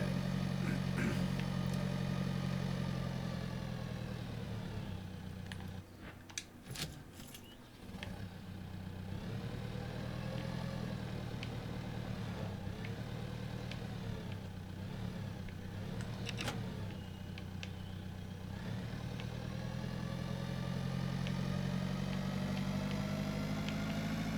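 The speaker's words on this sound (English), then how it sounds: "Tractor almost can't pull all his water up the hill." A tractor engine in a farming simulator video game drones steadily at a low, even pitch, straining as it hauls a load of water uphill, with brief dips and a few clicks partway through.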